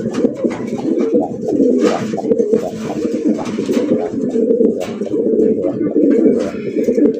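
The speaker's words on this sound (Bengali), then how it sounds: "এই গ্রেটের বাগদাদি, তার ডাক দেখেন" Baghdadi pigeons cooing steadily and close, a dense chorus of overlapping low throaty coos repeating without pause from a coop of fancy breeds.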